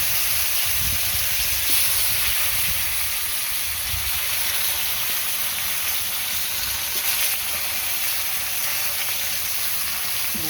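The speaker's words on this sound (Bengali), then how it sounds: "কারকল ভাজার জন্য দিয়ে দিলাম" Bitter gourd frying in a pan, a steady dense sizzle and hiss of oil that runs unbroken and fairly loud throughout, with faint stirring scrapes and no voices.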